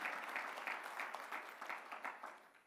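An audience at an engineering awards dinner claps in a steady, moderately loud round of applause that fades slightly toward the end, with no talk over it.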